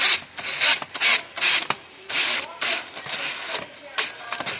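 A drill with an open-ended eye bolt chucked in turns the bolt into wood for a DIY bench swing, in short repeated bursts of rasping, grinding rotation with brief pauses between them, close up.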